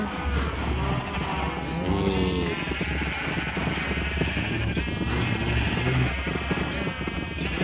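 Sheep bleat repeatedly in a video game, several overlapping calls sounding steadily and close over continuous game ambience and background music.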